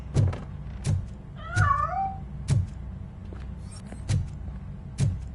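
A cat meows once in the RoboCop: Rogue City video game, a short wavering cry in the middle amid regular heavy thuds of footsteps and a faint electronic whir.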